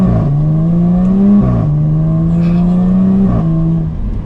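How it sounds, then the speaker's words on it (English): A 2021 Jaguar F-Type R-Dynamic exhaust in dynamic mode pulling away from a stop, loud and close, with a droning engine note interrupted by two gear-change dips and rises. "That exhaust gets louder."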